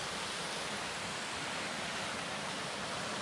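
Constant rushing flow of a mountain stream, a steady broadband hiss of water heard close and unbroken throughout.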